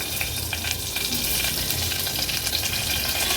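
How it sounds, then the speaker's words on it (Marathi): Cumin, mustard seeds and asafoetida sizzle in hot oil for a tempering, a steady, close crackling fry with scattered small pops throughout. "फोडणीला आता आपण जिरं देऊया अर्धा चमचा जिरं घेतलं आहे अर्धा चमचा राई पाव चमचा एवढं हिंग घालायचे"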